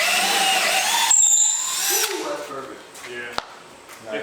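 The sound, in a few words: power drill on boat motor mounting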